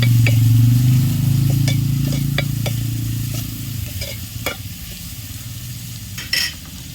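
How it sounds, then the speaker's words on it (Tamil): Onions, coriander leaves and curry leaves sautéing in a pan for a prawn curry, a steady loud sizzle with repeated scrapes and clinks of a stirring spoon against the metal, the frying gradually easing in the later seconds. "இதை ஒரு வாட்டி நல்லா வதக்கி விட்டுக்கலாம்."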